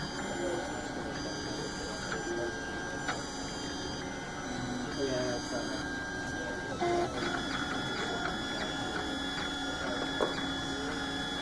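A 3D printer runs its first print job, with a steady motor whine and hum and small stepping chirps close by, while people talk quietly nearby.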